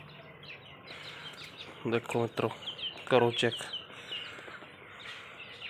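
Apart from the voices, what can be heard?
pigeon chicks chirping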